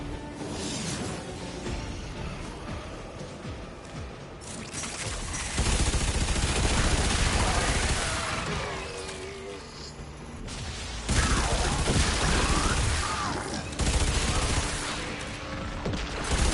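Sustained automatic weapon fire in Warframe, dense loud bursts with mechanical clatter and whooshes layered over game effects, swelling in several heavy stretches across the run.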